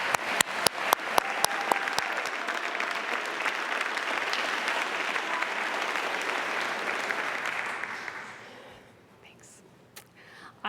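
A roomful of people applaud at a ceremony celebrating second chances, a dense and steady wash of claps that holds strong for about eight seconds and then fades away, with a few sharp isolated claps at the start.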